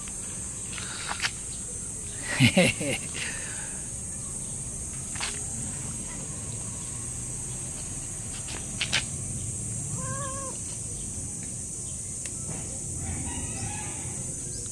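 A cat meows once, short and fairly clear, partway through a walk toward a market. Scattered street noises and distant fowl-like calls fill the background.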